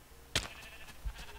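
A single sheep bleat from Minecraft, short and fairly clear, with a second faint bleat shortly after over low background noise.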